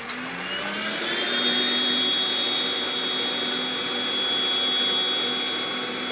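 Philips Speed Pro compact vacuum cleaner running, a loud steady high-pitched motor whine and airy rush that swells in over the first second and then holds constant, close by with no talk.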